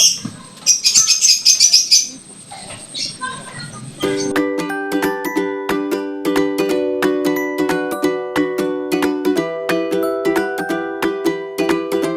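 Pigeons at a loft with a trapdoor make fluttering wing flaps and chirpy calls for about four seconds. Then a long run of sharp rhythmic clicking and metallic ringing tones takes over, with no speech.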